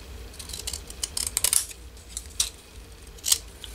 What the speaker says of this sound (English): I just took my decorative scissors